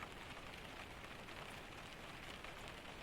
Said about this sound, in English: it is raining, a steady, heavy rain that has been falling since long before dark